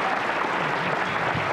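An audience at a 1987 concert in Charleston, West Virginia claps for the band's manager, a dense, steady wash of applause filling the hall at even loudness throughout.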